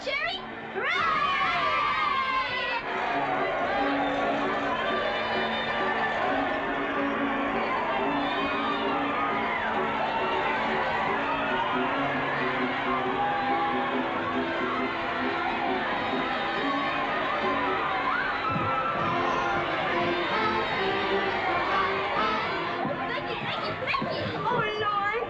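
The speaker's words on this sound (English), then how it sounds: "Do you hear the cheering?" An outdoor crowd cheers and shouts steadily and loudly throughout, celebrating the relief of Mafeking, with children's voices and talk mixed in.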